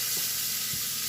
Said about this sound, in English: Do you cover when frying onions